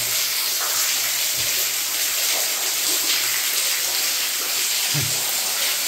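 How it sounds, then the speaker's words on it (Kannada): Steady rushing water from a hidden cave spring fills the space with a continuous hiss, with a couple of soft low thumps partway through. "ಇಲ್ಲಿಂದ ನೀರು ಬರುವುದು"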